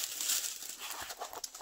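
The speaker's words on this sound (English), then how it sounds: "I've got plastic bags sticking under my arm." Plastic bags crinkle and rustle under someone's arm during a diamond painting canvas unboxing, a brief soft crackling that stays close and fairly faint.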